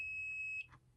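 A multimeter continuity tester emits a single steady high-pitched beep, clear and close, lasting just over half a second before cutting off into near-silence.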